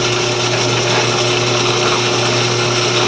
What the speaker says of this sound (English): I'm drilling all the bolt holes